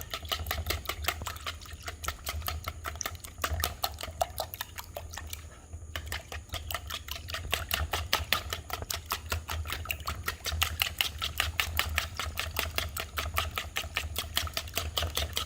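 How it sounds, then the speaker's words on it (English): Eggs whisked into cornbread batter with a rapid, steady rhythmic clicking and tapping of the whisk against the bowl, continuous and close for the whole stretch, with no talk. "Now I'm about to whisk everything together."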